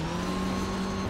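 Rally car engine in a rally simulator racing game, a steady sustained drone with a held engine tone and faint tire noise throughout, loud and continuous with no talk.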